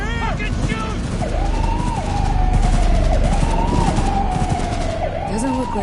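Rapid gunfire in the Cyberpunk 2077 video game at a police bust by Max Tac, layered over a wailing siren and shouting voices throughout.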